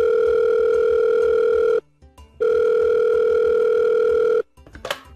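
A telephone on the line sounds a steady electronic tone in two long bursts separated by a short gap, loud and close, followed by a brief clatter at the end.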